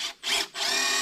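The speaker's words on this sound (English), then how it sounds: "I'm gonna go get my screw gun right now, that way I can put a couple screws to this" A screw gun drives screws into a cedar deer feeder, two short whirring bursts followed by a longer steady run, loud and close with no talking.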